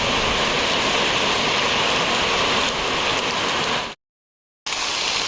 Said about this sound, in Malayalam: ഇതാണ് കുറ്റിപ്പുല്ല് പോകുന്ന വഴിക്കുള്ള വാട്ടർഫാൾസ്